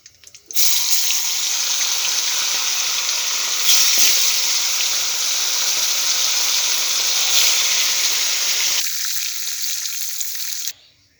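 Browned chicken pieces sizzle loudly in hot oil for a white chicken bhuna, a dense, even crackle that starts abruptly, holds steady and softens near the end.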